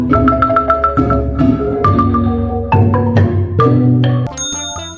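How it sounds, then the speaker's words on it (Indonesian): A Minahasa kolintang, wooden bars struck with mallets, rings out in quick bright strikes and a short melodic run over resonant low tones. It ends on a high ringing note, close and alone. "Ini adalah alat musik pukul tradisional yang terbuat dari bilah-bilah kayu khusus"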